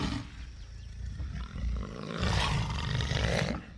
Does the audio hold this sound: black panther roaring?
yes